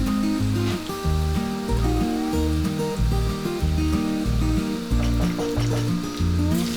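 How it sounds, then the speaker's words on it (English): Chopped garlic and chili flakes frying in a pan make a steady hiss and crackle, partly masked by rhythmic background music playing over it throughout. "in the same pan add 5 garlic cloves chopped, add half tablespoon chili flakes and fry it for few seconds"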